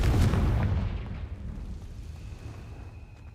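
Confringo blasting spell explosion in Hogwarts Legacy, a single loud, close boom that rolls off into a fading rumble over about three seconds.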